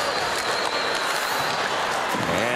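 Hockey arena crowd at an NHL game between the San Jose Sharks and Edmonton Oilers, cheering and applauding after a Sharks goal, a dense steady roar filling the space with no pauses.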